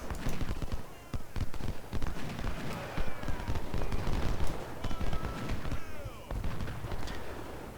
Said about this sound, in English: if my cav can just shoot and get some kills, along with these guys, and now this guy is shooting